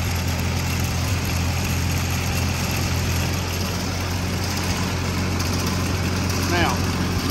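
An International Harvester Cub 154 Loboy tractor engine runs at a steady idle, an even low drone throughout with a constant hum and no break.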